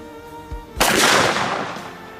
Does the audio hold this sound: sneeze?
no